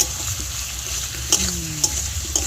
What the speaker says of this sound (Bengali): সব দিয়ে একটু ভালো করে কষিয়ে নেব।